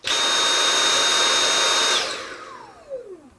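A Dyson V8 Plus cordless vacuum cleaner in normal mode runs with a loud, steady high whine for about two seconds, then switches off and its motor winds down in a falling tone.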